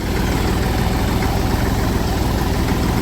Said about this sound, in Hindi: मुझे बैक करना पड़ रहा है ट्रैक्टर अपना पीछे